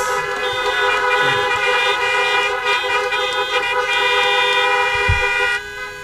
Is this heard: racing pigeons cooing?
no